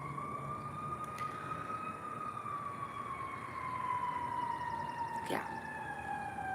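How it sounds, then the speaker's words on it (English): A passing ambulance siren wails faint and distant in a steady, slowly falling tone behind low background noise, with a brief spoken word. "There's an ambulance going by."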